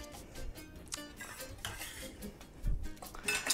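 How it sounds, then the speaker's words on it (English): Tilapia ceviche ingredients are tossed into a bowl, giving soft scattered clinks and scrapes of utensils against the dish, with a louder clatter near the end. "Okay, we're gonna toss that in our bowl"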